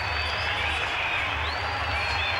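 Cricket crowd applauding a batsman's fifty in a 1995 Test against Australia: steady, dense applause and crowd noise throughout, with a faint commentary-like voice underneath.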